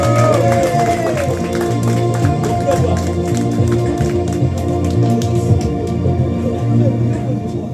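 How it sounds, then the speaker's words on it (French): An audience at an evening community lecture applauds loudly, steady dense clapping with scattered cheers that continues throughout, a voice occasionally heard over it. "Je vous demande d'applaudir bien fort Laurie Gérald."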